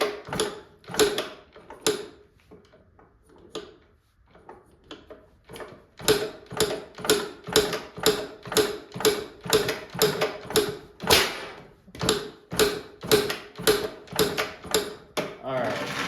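Repeated kicks turn over the engine of a cheap Yamaha YZ80 dirt bike with low compression, giving a fast, rhythmic series of sharp mechanical clacks and ratcheting clicks. The engine does not catch, and a brief pause interrupts the sequence.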